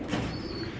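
Racing pigeon hen cooing softly and steadily at close range in a loft, a low continuous murmur with no talk over it.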